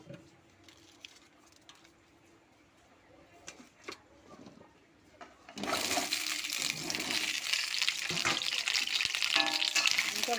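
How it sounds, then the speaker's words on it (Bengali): Quiet clatter first, then a sudden loud hiss and crackle of potatoes hitting hot mustard oil, sizzling steadily and strongly until the end. "আমি এবার সর্ষের তেল দেবো প্রথমে আলুটাকে লাল লাল করে ভেজে নেব"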